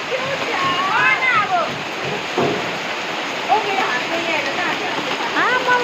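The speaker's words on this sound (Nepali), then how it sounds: "असिना परे असिना" Hail falling in a steady, dense rattling hiss outdoors near a small fast food shop, continuous throughout with voices talking over it.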